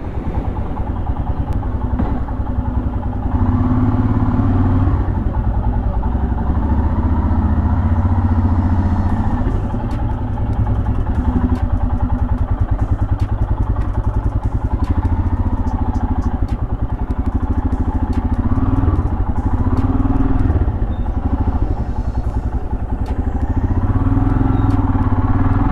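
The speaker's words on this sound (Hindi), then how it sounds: "थोड़ा इंजन को वार्म होने देते हैं।" Royal Enfield Himalayan motorcycle engine idling while warming up, a steady close thumping single-cylinder chug with light mechanical clatter, running continuously and alone at an even pace.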